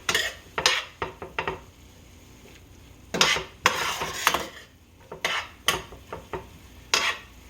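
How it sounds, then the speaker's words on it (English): Spoon stirring seasonings, brown sugar, bourbon and McCormick Grill Mates seasoning into food in a pot, with repeated scraping clinks against the pan in irregular bursts over a faint sizzle. "Couple of shakes, and we're gonna stir that in."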